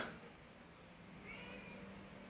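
A house cat meowing in a home at night, a short drawn-out cry heard close but fairly soft over light room noise, with no talk.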